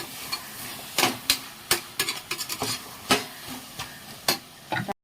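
A spoon stirs and scrapes through mutton sizzling in a pan for biryani, with sharp irregular clinks and scrapes over a soft frying hiss.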